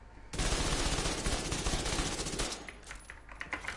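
Rapid automatic gunfire from a weapon in the shooter game Division 2, loud and continuous close bursts that thin into scattered shots near the end.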